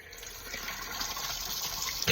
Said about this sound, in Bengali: এবার জল ছেড়ে ভালো করে ধুয়ে নেবো।